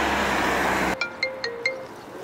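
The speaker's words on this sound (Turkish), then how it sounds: "Bir dakika telefonu çalıyor." Mobile phone ringing during a bicycle tour in Ordu, Turkey: after a burst of wind and road noise cuts off, four short repeated electronic ring chimes sound clearly and close by, with no talk.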